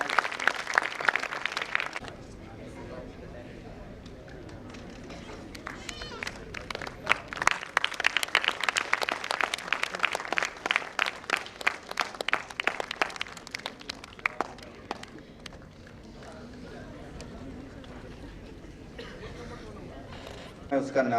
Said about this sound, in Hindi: तो जोरदार तालियां बजाइए डॉक्टर वली के लिए